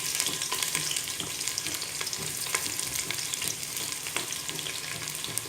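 Sliced onions and dried red chilies sizzle steadily in a hot pan over a medium to high flame, a constant crackling hiss with occasional stirring clicks. It is close and even, with no talking.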